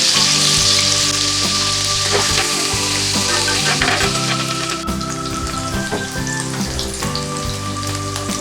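Paneer pieces fry lightly in oil over a medium flame, giving a loud, continuous crackling sizzle with dense spattering pops that hold through the whole stretch, and no voices are heard.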